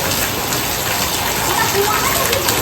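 Steady rain falls throughout, a dense, loud, even hiss of drops on surfaces with no break, while children play in it and faint voices sit underneath.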